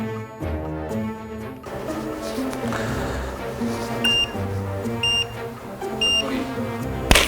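A sous vide cooking machine's timer sounds in a kitchen, giving four short, evenly spaced electronic beeps about a second apart, faint over background music.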